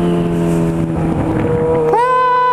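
A Yamaha XJ6 racing a Kawasaki Ninja on the road, its engine giving a steady loud tonal drone that jumps sharply in pitch as the rider opens the throttle and accelerates hard.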